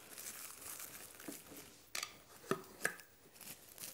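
A plastic bag crinkles and rustles faintly up close while a jar of homemade salted fish is sealed, with a few sharp crackles among the softer handling noise.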